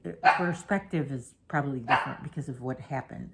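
A pet dog barks in short, yappy bursts at close range, mixed in with a person talking indoors.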